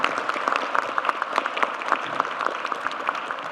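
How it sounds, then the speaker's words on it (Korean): A town hall audience in Ulsan applauds steadily, with many hands clapping densely throughout and no clear voices over it. "박수도 한번 쳐주면"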